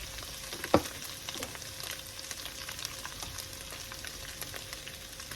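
Ground beef and a small onion frying in a pan for chili give off a steady, fine crackling sizzle. One sharp knock of a utensil sounds near the start, and no voices can be heard.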